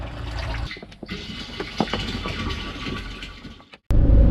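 Water flows from a trough into a water bag, a steady gurgling pour with a few splashes and a brief break near the end, close by and with no one talking.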